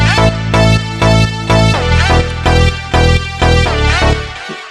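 A clean synthesizer sample with no bit crusher, loud and close, repeating in even rhythmic bursts of rich harmonic chords that soften toward the end.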